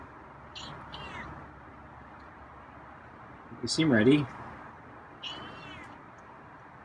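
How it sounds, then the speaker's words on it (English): Feral cat meowing a few times, fairly quiet, with a louder drawn-out cry in the middle and shorter calls before and after, over steady background hiss; a person speaks briefly nearby. "Got some meows today."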